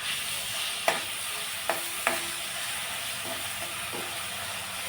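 Chili, garlic and cumin masala paste fries in hot oil with a continuous soft sizzle, broken by a few sharp stirring knocks against the pan.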